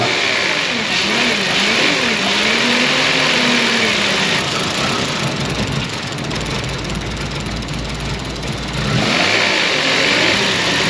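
A car engine runs in an auto repair shop, revving up loudly and holding at high RPM before dropping back toward a steady idle, close and continuous with no talk.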